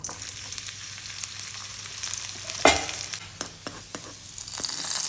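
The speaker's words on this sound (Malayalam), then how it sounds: "പാനിലേക്ക് വെളിച്ചെണ്ണ ഒഴിച്ച് കൊടുത്തിട്ടുണ്ട് അതിലേക്ക് ഒരു മൂന്നാല് ചെറിയ ഉള്ളി ചെറിയ കഷ്ണങ്ങളാക്കി മുറിച്ചത് ഇട്ട്" Small onions, cut into pieces, frying in coconut oil in a pan for a mackerel curry, a steady close sizzle with occasional stirring clicks and one louder clatter.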